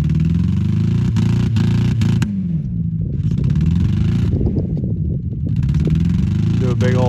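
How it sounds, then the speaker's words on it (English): 4x4 Blazer spinning on bare rims in a stuck burnout, loud revving engine surging and clattering in bursts with short gaps, while people talk over it. "Big old rim burnout."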